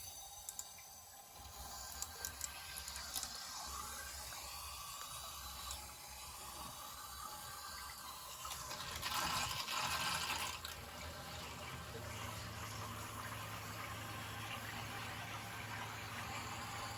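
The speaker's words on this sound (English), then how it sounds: "we're ready to turn on the water to fill this tank and check these fittings" Water running into a newly installed natural gas water heater tank as it fills, a soft continuous hiss and gurgle in a quiet room, briefly swelling louder midway before settling into a low steady flow.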